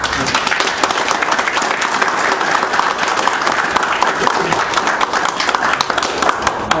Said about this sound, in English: I'd like to have a round of applause for the people who spoke